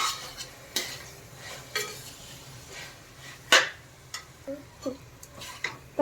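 A spoon scrapes and clinks against a pan while spices are stirred for veg biryani, with sharp intermittent knocks and scrapes at an uneven rhythm over a quiet background.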